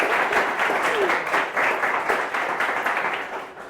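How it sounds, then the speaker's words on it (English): Audience applause at a conference talk on UI testing, a steady burst of many people clapping that stays fairly even throughout and thins out slightly toward the end. "I wanted to ask you for an applause"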